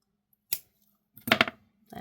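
Excess wire on a bead necklace being snipped off: one sharp close snip, then a quick cluster of two or three clicks from the cutters in an otherwise quiet room.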